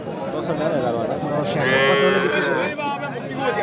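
A cow lows loudly over a crowded cattle market, with people chattering and bargaining over prices throughout; heifers and small bulls are on sale.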